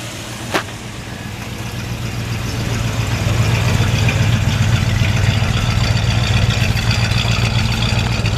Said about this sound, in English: we're going to start it up for you to let you take a listen